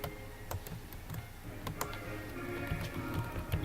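Typing on a computer keyboard while writing PHP code, a quiet, irregular patter of key clicks with a few sharper taps, close and alone.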